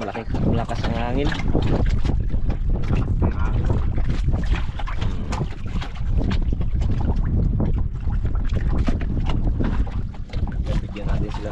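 Heavy, gusty wind buffets the microphone in a constant roar, with people talking underneath and the churn of a boat on open water.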